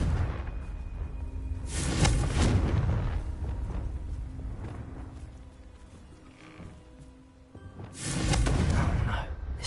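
Explosions from the Confringo spell in Hogwarts Legacy land as heavy booming blasts, one around the two-second mark and another near the end, each loud and rumbling over a low murmur of background noise.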